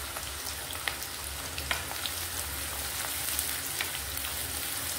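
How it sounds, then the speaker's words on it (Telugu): Onions, green chillies and curry leaves fry in hot oil, a soft continuous crackling sizzle heard close with faint pops and no voices. "ఆయిల్ హీట్ అయింది. ఇప్పుడు ఉల్లిపాయలు, పచ్చిమిర్చి వేస్తున్నాను."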